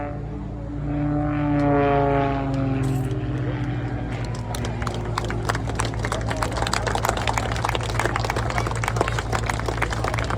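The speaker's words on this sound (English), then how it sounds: "so now we're going to more hovering manoeuvres with a much lighter aircraft" A light propeller aircraft performing hovering manoeuvres at the Blackpool Airshow drones loudly overhead, its engine tone sweeping then settling into a steady roar, with crowd clapping rising behind it.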